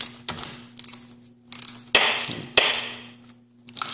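A ratchet wrench cranks out the spark plug on a Yamaha YZF R6 motorcycle. It gives close, crisp bursts of ratcheting clicks in short strokes, each separated by brief pauses.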